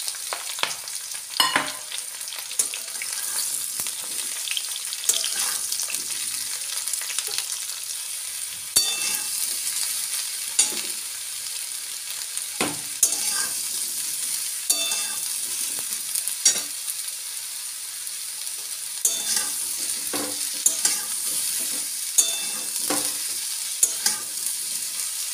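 Chopped ridge gourd sizzles in a pan with cumin seeds and green chili, a steady bright frying hiss broken by repeated clinks and scrapes of stirring, close and alone without talk.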